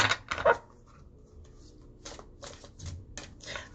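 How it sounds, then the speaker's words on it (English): Tarot cards being shuffled by hand at a reading, a few quick riffling bursts and soft slaps of card stock, close and moderately loud with quiet pauses between. "One more shuffle, then we're done."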